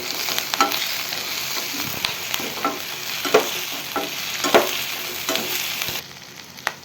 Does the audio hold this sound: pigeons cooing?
no